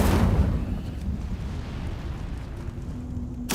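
The Incendio fire spell cast in Hogwarts Legacy: a loud rumbling burst of flame that dies away into a low hum, followed by a sharp crack right at the end.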